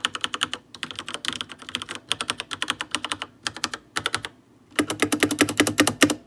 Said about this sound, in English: these are the Cherry MX red switches, and I'm going to give you guys a sound test.